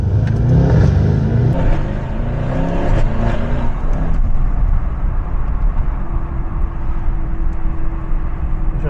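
A Mercedes E63 AMG engine revs hard and loud up close, rising and falling through rough bursts, then settles into a steady droning idle with a faint tone.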